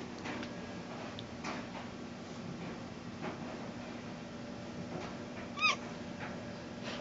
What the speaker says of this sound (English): That made him meow.